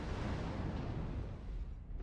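In the MechWarrior Online video game, a mech fires a volley of LRM missiles. It makes a fairly quiet, dense, roaring rush of launches and blasts that runs steadily for a couple of seconds with no voices.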